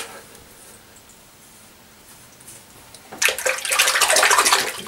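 Rinsing water after a wet head shave: quiet at first, then a loud close rush of running, splashing water for the last couple of seconds.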